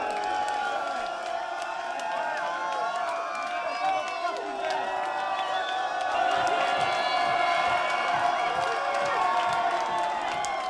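Crowd at a live hip-hop show, a steady wash of cheering and whoops with scattered clapping, loud and sustained throughout with voices blending into the roar.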